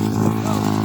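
An Apollo dirt bike engine revs in a steady, buzzing drone close by, briefly and loudly, with a voice talking over it.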